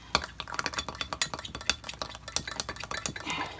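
Hot process soap batter stirred in a pot, a steady string of close scraping and clinking utensil strokes against the pan, quick and continuous without any talking.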